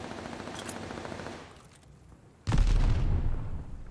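Enemy gunfire in a Call of Duty match, a loud close burst of automatic shots and booms erupting after quieter background game noise.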